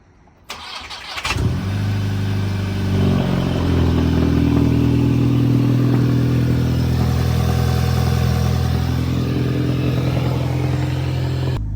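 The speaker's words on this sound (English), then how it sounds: "He's gonna start up the car." A Volkswagen MK6 GTI, just fitted with ARM boost pipes, cranks with a short starter whir, catches and settles into a loud, steady idle that drones on for about ten seconds, close by with no talking.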